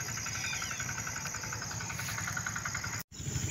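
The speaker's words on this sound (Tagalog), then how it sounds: "papaandar na kami ng ating makina" Farm engine running at a steady idle: a continuous, fairly loud mechanical drone with an even rattling pulse, broken by a very brief dropout near the end before it carries on.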